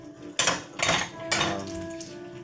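Dishes being washed outdoors in a forest setting, with three or four sharp clatters of pots and utensils knocking together, close and fairly loud, no talk.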